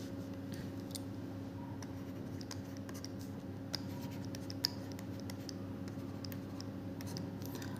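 Handwritten notes being jotted down produce soft, steady pen scratching on paper, faint and close beneath a constant low electrical hum, with a couple of small taps and no speech.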